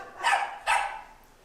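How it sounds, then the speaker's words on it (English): A pet dog named Scout barks twice indoors, two sharp, fairly close barks in quick succession, alone with no voices over them. "if that dog doesn't stop barking"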